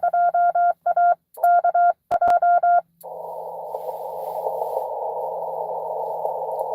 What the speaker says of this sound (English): somebody's definitely doing CW. I can hear them.